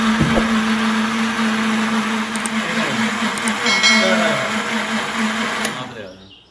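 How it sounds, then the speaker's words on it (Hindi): A kitchen blender whirs steadily as it blends a thick mango milkshake with vanilla ice cream, the motor drone continuous and fairly loud before winding down at the end; no talk over it. "मैं इसको ब्लेंड कर लूँगी यहाँ पर।"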